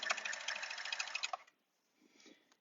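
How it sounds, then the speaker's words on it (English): An overlocker sewing a seam straight through fabric, a fast, even mechanical whirring chatter for about a second and a half, then stopping, close and fairly quiet with no talk. "we're just going to sew this seam straight through"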